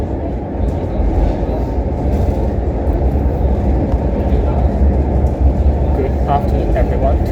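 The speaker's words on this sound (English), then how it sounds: "Tren dirección A. Train to airport," An airport-bound train in Barcelona rumbles along with a continuous low, heavy roar and faint rattles throughout, loud and close as if heard from inside a carriage.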